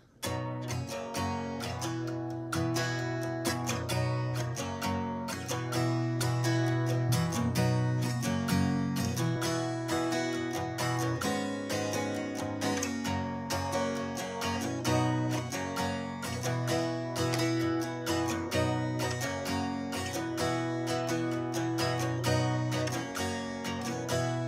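Guitar strums the chorus chords of a song, a steady driving rhythm of full ringing chords played close and loud, continuous with no talking.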